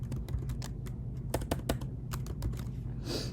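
Rapid keystrokes on a computer keyboard while placing text along a circular path in Adobe Illustrator, a steady run of close, crisp clicks with no talking.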